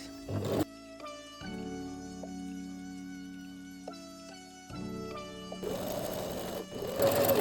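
A domestic sewing machine stitches lingerie fabric and lace waistband in short runs, its motor whirring steadily between brief pauses and a backstitch, with louder rattling bursts at the start and end.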